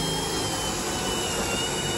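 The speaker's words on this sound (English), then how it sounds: "we're drilling a hole in the 2x4s" A power drill bores a hole through a 2x4 on an ICF pour job site, a continuous loud whirring grind that stays steady throughout with no pauses.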